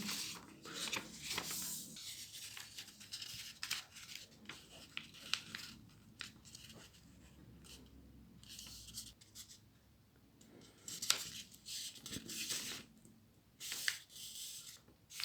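Paper is folded and creased by hand for an origami swan: soft, close rustling and scraping strokes come in irregular bursts with quiet gaps between them.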